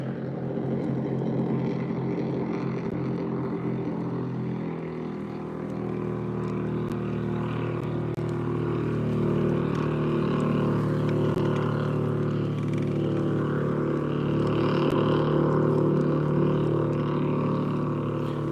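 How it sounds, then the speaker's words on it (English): A speedboat motor drones steadily out on a lake, a continuous mid-distance hum that swells slightly as it passes on a sunny day of bass fishing. "Can you guys see that speedboat out there?"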